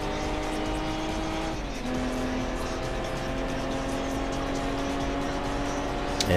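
Race car engines in a Gran Turismo 4 Hyundai one-make race at Grand Valley East, a loud sustained drone of engines holding high revs with a brief dip and shift partway through, with no one talking.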